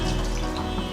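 Water pours steadily into a cooking pot holding dal, a brief continuous splashing stream, close and fairly loud, with no talking.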